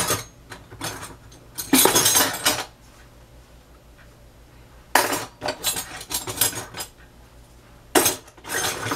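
Cutlery clinking as a knife is taken out in a home kitchen, several bursts of metallic rattling and chinking separated by quiet gaps, close and fairly loud.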